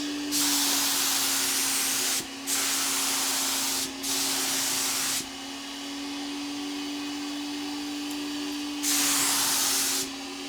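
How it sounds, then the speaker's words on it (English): A paint spray gun fed by a 2.5 gallon Fuji pressure pot with a 1.3 tip hisses in four steady bursts with short gaps, over a constant low mechanical hum from nearby equipment. "So now I'm going to play around some more and spray another piece."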